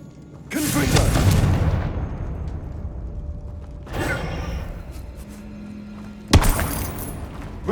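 Three Confringo fire-spell blasts in Hogwarts Legacy, each a loud booming burst with a crackling tail that fades over a couple of seconds, the last one sharp and sudden.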